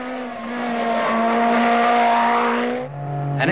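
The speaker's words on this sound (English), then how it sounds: "A Lancia Delta S4." A Lancia Delta S4 rally car at Pikes Peak in 1987 drones past at high revs, a steady loud engine note that drops at a gear shift before climbing again.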